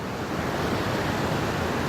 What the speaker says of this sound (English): the water flowing down from the mountain, down the valleys